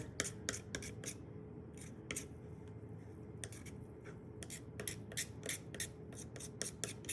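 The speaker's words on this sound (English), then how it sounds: "You can see again as I can easily scrape that membrane off the bone." A knife scrapes the membrane off the bones of a lamb rack in repeated short, rasping strokes that come in quick bursts, close and fairly quiet.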